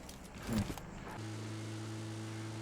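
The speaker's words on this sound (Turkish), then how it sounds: "önümüzden araba gidiyor kardeşim" Car driving past in the mobile battle royale game PUBG Mobile, a brief louder engine swell followed by a steady low drone, with no talk during it.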